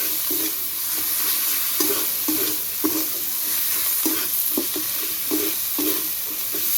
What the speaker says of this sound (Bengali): কিছুক্ষণ কষতে থাকবো যতক্ষণ না আদা রসুনের কাঁচা গন্ধটা যাচ্ছে।